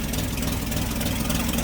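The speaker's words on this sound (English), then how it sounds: "But again, you can see it runs." A 1941 Chevrolet Special Deluxe Coupe with a single-barrel carburetor runs at a steady idle, its low engine rumble loud, close and continuous.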